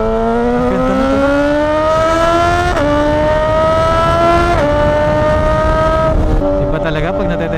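A Suzuki GSX-S1000 motorcycle engine climbs hard through the revs, its rising whine dropping briefly at each of three quick gear shifts, loud and close with rushing wind.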